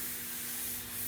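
A Hookit sanding system works over a curved, primed car panel, giving a steady, close abrasive rubbing hiss that runs unbroken for about a second with no voices.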